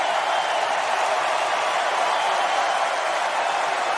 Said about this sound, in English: she would still receive a thunderous ovation from the crowd